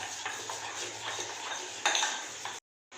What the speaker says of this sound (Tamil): இதை வந்து நல்லா மிக்ஸ் பண்ணிக்குவோம் இதோ இந்த மாதிரி கட்டி சேராமல் நல்லா மிக்ஸ் பண்ணி எடுத்துக்குவோம்